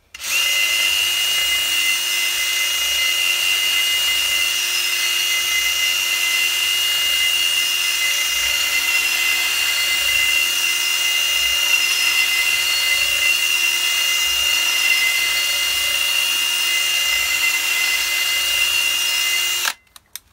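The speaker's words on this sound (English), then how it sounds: "basically it's mill out the centre till it fits" A rotary tool with carbide bits mills out the centre of a metal brake disc in a steady, loud, high-pitched whine that holds evenly for about twenty seconds before stopping abruptly.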